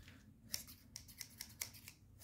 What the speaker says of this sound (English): I'm going to grab my scissors and